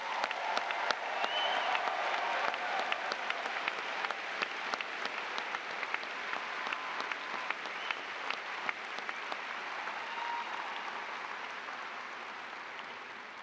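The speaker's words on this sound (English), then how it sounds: "Let's give them a giant round of applause." Applause for Anderson High School's 2024 graduating class rolls through a large audience, a broad crowd of clapping with sharp individual claps standing out, slowly tapering off.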